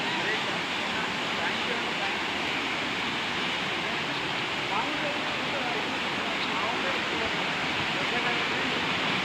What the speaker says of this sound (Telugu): ఇక్కడ ఇంకో వాటర్ ఫాల్ ఉంది